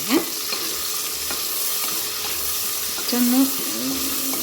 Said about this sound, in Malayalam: കറിവേപ്പില പിന്നെ വേണ്ടത് പച്ചമുളക് എല്ലാം കൂടെ ഒന്ന് വഴറ്റട്ടെ